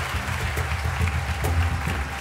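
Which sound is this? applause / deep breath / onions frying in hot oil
applause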